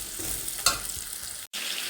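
Meat pieces sizzle as they are stir-fried in a hot pan, a steady close hiss with a sharp scrape of stirring and a momentary drop-out near the end, no voices.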